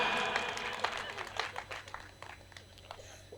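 Thin, faint clapping from the audience at a comic poetry recital, a brief scattering of handclaps that tapers off quickly and grows sparser toward the end.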